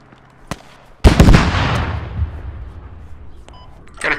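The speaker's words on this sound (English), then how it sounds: "I think I'm taking shots from east, somewhere east" Gunshots ring out in the squad shooter Squad. A single sharp crack is followed by a loud, close shot with a long rolling echo that fades over several seconds, then more faint shots.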